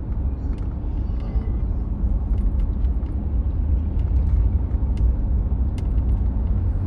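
A car rolls through an ordinary residential neighborhood on the north side of Pompano Beach, Florida, giving a steady low road rumble with light traffic and faint scattered ticks in the background, and nobody talks.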